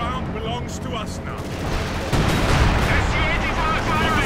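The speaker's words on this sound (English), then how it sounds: "Firing away at the Panzer IV" Tank cannon and machine-gun fire in a video game battle around a Panzer IV, a dense continuous clatter of shots and rumbling booms that grows louder about halfway through.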